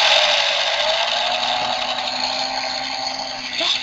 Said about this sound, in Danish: Det lyder som en blender.